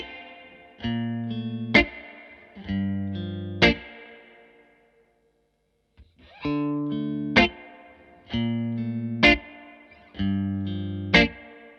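Electric guitar chords strummed in short repeating phrases through a Victory amplifier, each ending in a sharp accent, with a splashy spring reverb tail ringing after them; a brief pause midway.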